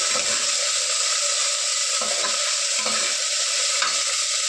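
Ingredients frying in a hot pan with a dense, steady sizzle throughout, close and loud, with occasional soft stirring clanks and no talking.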